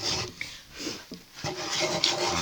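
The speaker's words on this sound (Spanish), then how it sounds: "lo vamos a lijar poquito, y así a circulitos." Hand sanding of a painted wooden nightstand worked in small circles, a steady close rubbing rasp that swells and fades in short strokes without pause.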